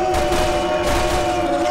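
Gunfire in the video game Resident Evil Revelations 2: a dense, steady volley of shots at close range, loud and continuous, over a humming game soundtrack.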